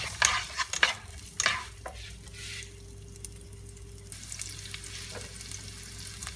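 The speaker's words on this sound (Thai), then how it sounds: "จากนั้นผู้จะนำกระเทียมนะคะ แล้วก็หอมใหญ่ลงไปพร้อมกันค่ะไปผัดนะคะ จนหอมใหญ่เขาสุกใสนะคะ" Garlic and onion stir-fried together in a pan: a few loud, close scraping stirs in the first two seconds, then a soft, steady sizzle with occasional light stirring. No one speaks.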